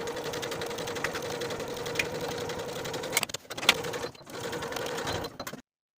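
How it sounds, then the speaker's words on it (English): A sewing machine runs in a steady, continuous stitching hum while joining vest pocket bags all the way around with a 3/8 inch seam, made for a Simplicity 1499 pattern, pausing briefly near the end before stopping. "sewing those pocket bags together all the way around with a 3/8 inch seam allowance"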